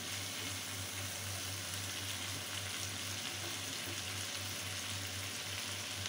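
Green chillies frying in hot oil in a home Bengali kitchen, a steady unbroken sizzle with a faint low hum beneath, fairly quiet and with no talking.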